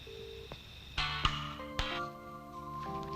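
A telephone being dialed in a Hindi-dubbed South Indian action film scene: a string of short electronic tones and beeps at shifting pitches, fairly close and clear, with no talking.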